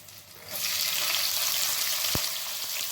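Onions drop into hot oil already popping with mustard seeds and golden garlic, a quiet start jumping into a loud, steady hissing sizzle that holds, with one brief low knock partway through.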